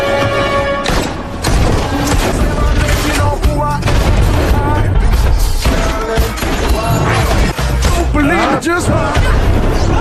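Gunfire bursts and crashes during a shootout in the film Ghost, dense and loud throughout, layered with music and crowd babble, with sharp impacts scattered across the scene.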